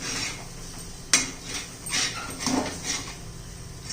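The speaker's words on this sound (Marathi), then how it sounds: "हे पहा सगळं असं खरडून घ्यायचं." A spoon scrapes cooked besan kharda around a pan, with repeated short scraping strokes and a sharp metallic clink, close and fairly loud.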